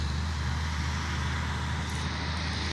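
A truck labors up a hill outside, its engine a steady low, rough drone while the gearbox shifts, heard at moderate distance with no talk, then cutting off abruptly at the end.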